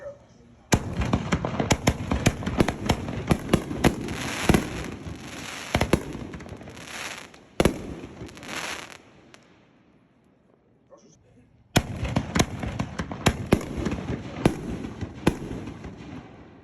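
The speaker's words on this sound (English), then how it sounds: "5-inch Nishiki bombs, 6-inch Ringmaster, and 6-inch Mammoth shells." Aerial firework shells, including 5-inch Nishiki bombs and 6-inch Ringmaster shells, bursting in loud sharp reports with crackling tails, several rapid salvos separated by a brief quiet gap, with crowd voices faintly underneath.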